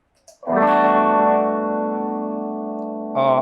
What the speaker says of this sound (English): on this particular board, it's the dig, whatever digital delay, and then the Hall of Fame 2 verb